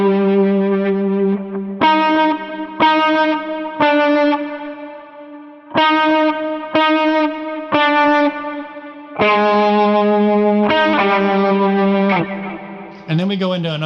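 Distorted lead electric guitar run from a tutorial, with fuzzy, sustained notes and sharp pick attacks. Bends climb and repeat, ending in a squealing rise, played loud and alone with echo-like effects.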